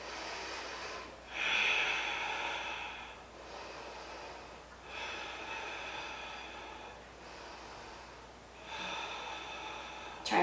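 Slow, controlled breaths during a held barre exercise, soft airy exhales rising and falling in a steady rhythm, close and fairly faint with no talking over them.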